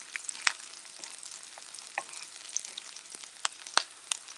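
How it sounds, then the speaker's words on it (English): Onions and garlic saute in a pan for a vegetable chilli, giving a soft, steady sizzle with scattered crackles and pops, close by and quiet, with no voices. "I'm sauteing the onions and garlic, and then when they start to turn brown"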